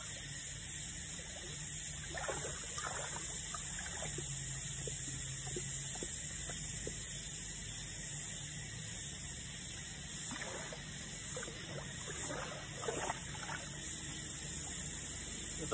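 Water flowing steadily along the Perm River, a constant outdoor rush with a few faint knocks and splashes, no voices.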